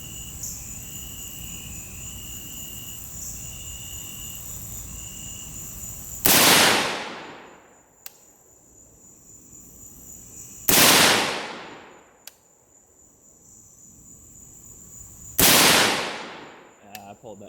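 Rifle shots from reloaded .223/5.56 rounds, three loud sharp reports spaced several seconds apart, each with a long decaying echo, over a steady background hum at an outdoor range.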